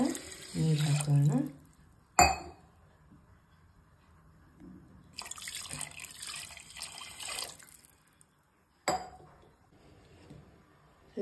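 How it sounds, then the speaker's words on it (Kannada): Two glasses of water are poured into a pot of rice for fenugreek pulao in separate bursts of close splashing, with quiet gaps between pours and a short start of another pour at the end. "2 ಲೋಟ ನೀರು ಹಾಕೋಣ."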